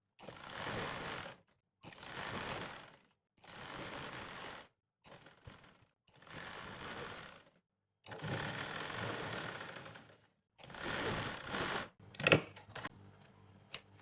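A sewing machine top-stitches a panjabi sleeve seam in repeated bursts of rapid whirring stitching, about seven runs of roughly a second each separated by short pauses, close and fairly quiet, ending with small clicks and handling noises.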